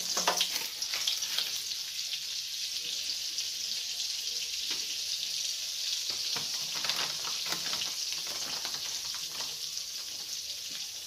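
Butter sizzling in hot oil in a pan, a dense, continuous bright crackle that holds steady and close throughout, with faint stirring movements and no one talking.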